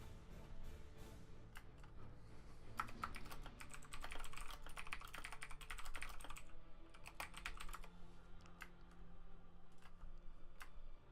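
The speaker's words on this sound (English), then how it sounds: "I'm getting distracted because of the typing there." Rapid, uneven clatter of fingers typing on a computer keyboard during a Tau Empire tabletop multiplayer session, with bursts of quick keystrokes continuing steadily for several seconds, fairly quiet and with no talk.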